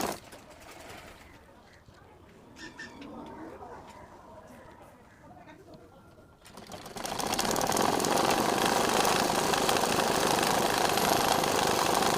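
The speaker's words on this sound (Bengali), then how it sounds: "এই যে উল্টা সাইড থেকে এইভাবে ধরে সেলাই করে ঘুরাইয়া ওই পাশে নিতে হবে" A sewing machine stitches a design onto a panjabi sleeve, kicking in loudly about halfway through as a continuous mechanical whir after a quieter stretch of talking and birds cooing in the background.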